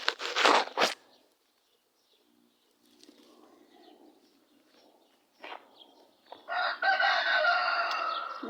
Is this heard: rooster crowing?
yes